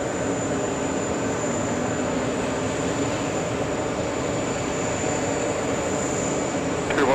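An Aer Lingus jet airliner taxiing at JFK airport, heading for Dublin: a constant engine rumble and whine with a thin high tone over it, steady and moderately close, no talk.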